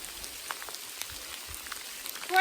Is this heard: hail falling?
yes